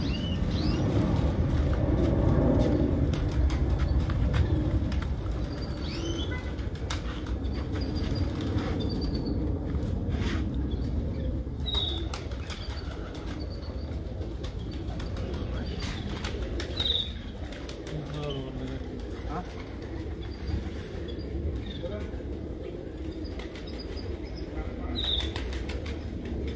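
Pigeons on a Sharjah rooftop flap their wings in a dense, steady whir close by, with occasional soft coos and faint traffic noise beneath.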